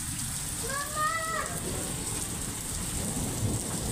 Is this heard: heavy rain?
yes